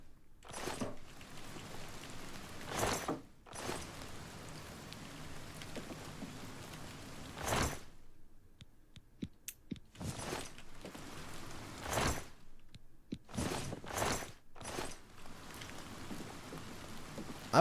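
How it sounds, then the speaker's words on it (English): Steady rain patters indoors in the video game Oblivion Remastered, broadband bursts recurring in waves with brief quieter gaps between, fairly close and moderately loud, no voices. "It sounds like it's raining in here."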